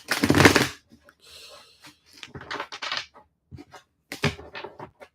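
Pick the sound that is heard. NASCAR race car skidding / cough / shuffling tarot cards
shuffling tarot cards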